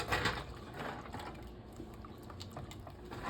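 A whisk scraping and stirring thickening pudding in a pot on the stove, quiet irregular clinks and swishes against the sides, faint and close, with no talking.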